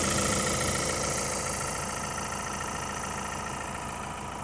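Steady diesel idle of a low-mileage 2020 Ford Transit MWB 350 Trend with its Ecoblue engine, heard up close under the open bonnet, a constant even clatter and hum without talk.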